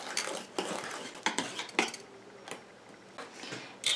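A utensil stirs coconut cream conditioner mixture in a bowl, making close, quiet clinks and scrapes in an irregular rhythm.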